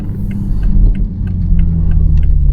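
A car drives downtown on a rainy late night, its low cabin rumble and road hum steady and close, with faint regular ticks over it.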